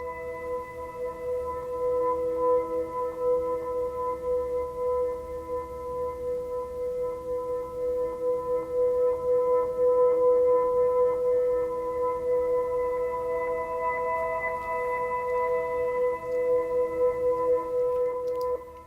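A reversed looping synth pad with steady sustained tones and a gentle pulsing swell, washed in reverb, playing alone at moderate volume throughout.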